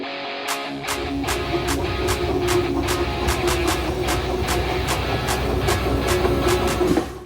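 A small miniature-railway steam locomotive, built by Exmoor Steam Railway in 1994, chuffs steadily past on the Rudyard Lake Railway, with regular sharp exhaust beats and a continuous mechanical rumble, fairly loud and close.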